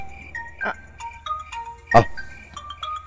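A mobile phone ringtone plays in a home, a bright melodic sequence of short tones repeating across the clip, with a couple of sharp knocks or clatters cutting in.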